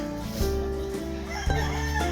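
A rooster crows loudly and close by, a long drawn-out call with harsh strained tones, while other chickens cluck in the background.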